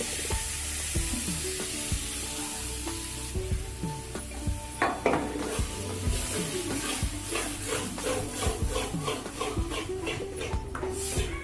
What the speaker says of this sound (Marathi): आपण ही डाळ शिजवून घेतलेली आहे ना, ती परतली ह्याच्यात